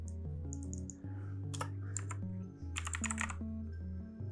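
Rapid typing on a computer keyboard, close and clear, with bursts of clicking keystrokes and brief pauses, alone with no talking.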